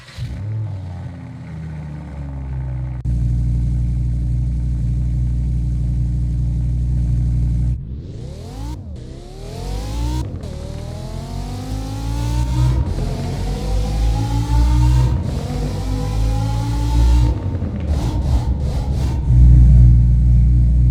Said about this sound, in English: Let's hop in this Audi R8 and see how it sounds.